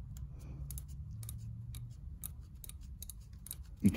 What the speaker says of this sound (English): You can hear the ratcheting.